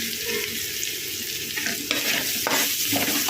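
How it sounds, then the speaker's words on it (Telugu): Steady, close sizzling of onions frying in a pan for meal maker kurma, a broad hiss with occasional scraping stirs, no voices. "ఈ ఆనియన్స్ కొంచెం బాగా ఫ్రై అవ్వాలి"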